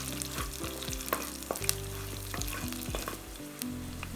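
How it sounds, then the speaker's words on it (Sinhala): Thinly sliced garlic cloves sizzle steadily in hot oil with cinnamon and curry leaves, a close, continuous crackle of tempering spices for a spicy sardinella fish curry, with no voices. "දැන් සුදු ලුණු බික් 5-6ක් මේ විදිහට හීනියට කපාගෙන ඒකත් අපි ටෙම්පරාදු කරගමු."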